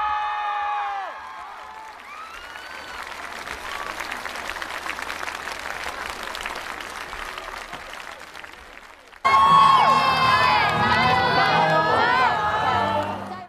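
A studio audience applauds and cheers at the grand final of a televised band competition. A host speaks briefly first, then loud, sustained clapping follows, and music with singing takes over near the end.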